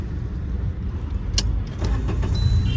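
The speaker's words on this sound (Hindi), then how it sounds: "तो स्टार्ट करते हैं कार को।" A car's engine idles inside the cabin during a driving lesson as it is started, a low steady rumble with a brief click and faint rattles over it.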